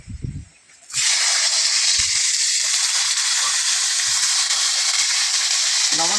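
Salted teasel gourd (kakrol) hits a little hot oil in a wok: after a quiet moment with light clatter, a loud, sudden sizzle bursts in and settles into a steady, close hiss.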